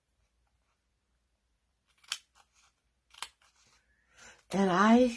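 Scissors cutting Stampin' Up dimensional foam adhesives in half, two or three short close snips separated by pauses, and then a voice begins speaking.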